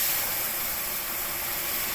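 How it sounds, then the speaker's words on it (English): Water poured into a very hot pan while cooking smoked pork chops and rice bursts into a loud, continuous steam hiss that fills both seconds with a broad, close sizzle and no talking. "It is very, very hot steam."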